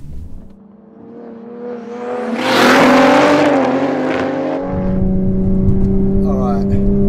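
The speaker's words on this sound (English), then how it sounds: "First proper race in the Supra." A 900 hp MK4 Toyota Supra revs and accelerates hard in a roll race against a GR Supra, with a rising in-car engine roar and whine that holds high before settling to a steady drone.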